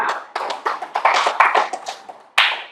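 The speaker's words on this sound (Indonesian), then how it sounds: "tepuk tangan buat temannya" Classroom pupils clap for a classmate in a series of short, loud bursts of hand claps at close range, with uneven pauses between them and a final sharp burst near the end, and no talking.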